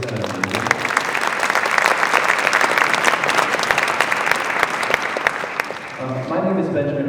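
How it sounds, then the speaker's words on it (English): A concert audience gives a symphony orchestra a sustained round of applause at a holiday concert, the bright, dense clapping filling the hall for several seconds before it fades and a voice begins speaking near the end. "Let's give one more round of applause for that Symphony Orchestra."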